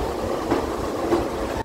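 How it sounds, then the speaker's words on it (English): Metro train rumbling at a station, a continuous loud low roar with faint rhythmic wheel clatter, cutting off abruptly at the end. "The unique sound of the metro trains captivated me as a little child."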